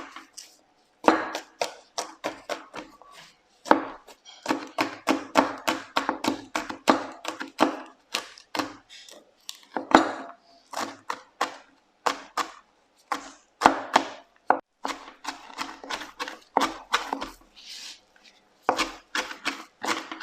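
Chili and garlic being chopped fine with a knife on a cutting board for a Thai spicy seafood sauce, rapid bursts of sharp close taps with short pauses between runs.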